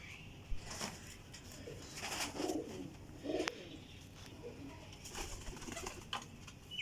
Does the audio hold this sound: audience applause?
no